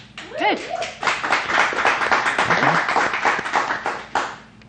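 A small studio audience breaks into dense, continuous clapping for several seconds, and a voice briefly cuts in over the start.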